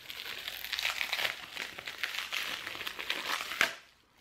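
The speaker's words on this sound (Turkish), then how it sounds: "Şimdi bu hışır hışır sesten bir şey duyamazsınız ki." Salt-free shampoo packaging crinkles and rustles as it is pulled open, a dense, continuous close-up crackling that ends in a sharp final crinkle before going quiet.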